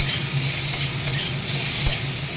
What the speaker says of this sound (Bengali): একটাই আম দিয়ে পাঁচফোড়ন দিয়ে দিলাম সেটা একটু নুন দিয়ে দিচ্ছি চলো একটু নেড়ে চেড়ে নিচ্ছি